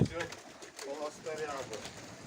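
Pigeons in a breeder's loft give a couple of soft, low coos, faint and brief, with voices murmuring nearby.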